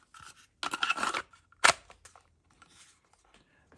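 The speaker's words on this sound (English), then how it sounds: "let's go ahead and put it in the Armor Guard holster" A pistol fitted with a threaded barrel is pushed into an Armor Guard holster, with a sharp, brief click at the lock-up standing out after some handling and rustling, and quiet surroundings otherwise.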